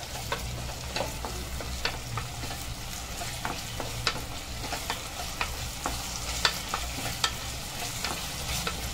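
Ginger garlic paste sautéing with onion and tomato for prawn rice, a moderate sizzle under repeated spoon scrapes and clinks against the pan, with a low steady hum beneath and no speech.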